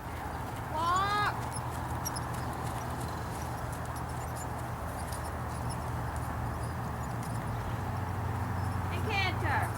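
A hunter-type horse moves at an even walk, its hoofbeats faint and regular beneath a steady background hiss, with a couple of brief bird chirps near the start and the end.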